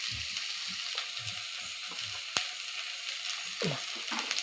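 Onions with half a teaspoon of turmeric sauté in a pan for a Malayalam herbal curry, a steady broadband sizzle with soft low spoon scrapes and a sharp click partway through, close and alone with no talk.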